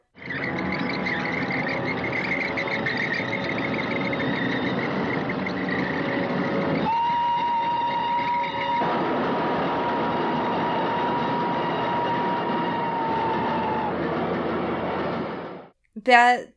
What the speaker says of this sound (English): then the train swings by